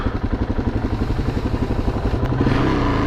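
A Suzuki DR-Z400S motorcycle being ridden gives a close, throbbing single-cylinder beat with some clatter, holding an even pulse before the engine note rises near the end.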